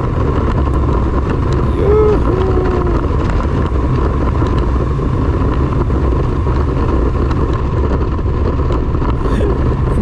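A KTM Adventure 390 motorcycle cruises along a highway on a monsoon ride, its engine a steady close drone blended with heavy wind rush over the microphone, with no break in the sound.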